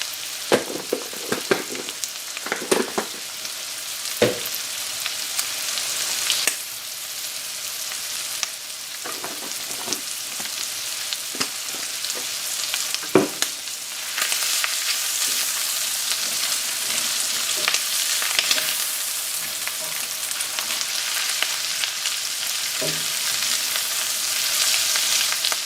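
Shrimp scampi sizzles steadily in a hot pan, a loud continuous crackling hiss with occasional stirring clatter and spatter pops throughout.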